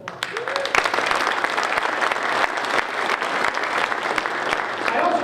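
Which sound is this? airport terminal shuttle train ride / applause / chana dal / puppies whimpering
applause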